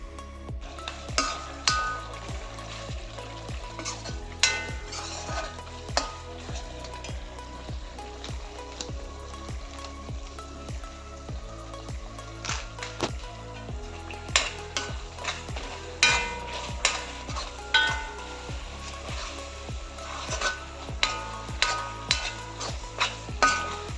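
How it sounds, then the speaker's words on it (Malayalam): Tomatoes cooking down with hot chili powder and Kashmiri chili powder for a brinjal pickle, giving a low bubbling sizzle broken by frequent sharp ticks and clacks of stirring, close and steady throughout. "തക്കാളി നന്നായിട്ട് വഴന്ന് വരുമ്പോൾ അതിലേക്ക് നല്ല എരിവുള്ള മുളക് പൊടി ഇട്ട് കൊടുക്കുക"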